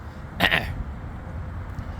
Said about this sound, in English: Excuse me. I have to cough and get something to drink.